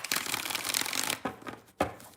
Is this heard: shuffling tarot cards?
yes